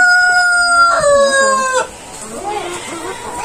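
Black mahogany Rhode Island Red chickens and a large rooster in a breeder house give a loud close crow with clucking, then softer scattered clucks and fowl calls.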